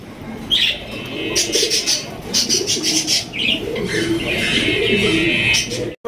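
A Lahori pigeon coos in a repeated, throaty pattern close by, with soft chirps and a bit of wing flapping from a fancy pigeon farm around it; no talk.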